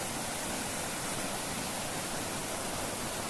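Fast-flowing water roars steadily where two waterfall streams converge, a dense broadband rush that stays loud and unbroken throughout, with no voices over it.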